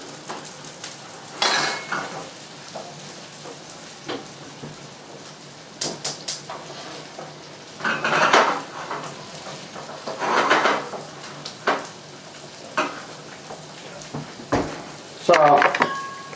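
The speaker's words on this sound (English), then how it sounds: "you can hear it starting to sizzle now" Onions and mushrooms sizzle steadily in a hot pan, a soft crackle with occasional clinks of a utensil against the pan.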